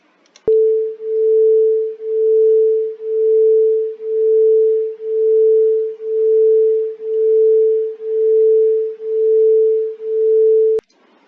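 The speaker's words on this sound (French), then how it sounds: "Ce que vous avez entendu, c'est vraiment un phénomène de battement" Two steady pure tones played together produce acoustic beating: a single sine-like hum pulsing regularly in volume about once per second, around ten even swells, loud and alone, with clicks at start and stop.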